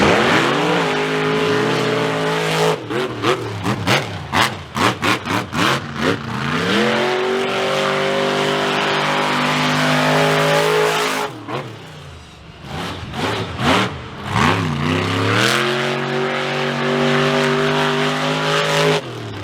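Monster truck engines fire up and rev hard during qualifying passes at the 2022 Monsters of Metal show, loud roaring bursts rising in pitch, a pause, then another throttle-up sequence.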